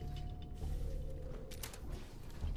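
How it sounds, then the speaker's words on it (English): A chain door mechanism opening in the Fallout 4 video game, grinding and creaking with metallic clanks over a low rumble, steady and fairly close throughout. "Oh, that's the chain door."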